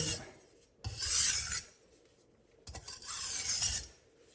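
A kitchen knife is pushed across a coarse sharpening whetstone in two long, close rasping strokes with a short pause between them. No one speaks.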